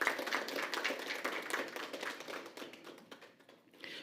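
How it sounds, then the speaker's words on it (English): Scattered clapping from an audience at a tourism ministry press conference, moderate and fairly close, thinning out and fading toward the end. "Let's give them a round of applause."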